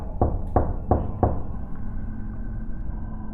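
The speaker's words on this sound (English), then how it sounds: "Alice knocked on the door." Four sharp knocks on a door of an abandoned mansion come in quick, even succession, close and fairly loud, followed by a low, quiet room hum.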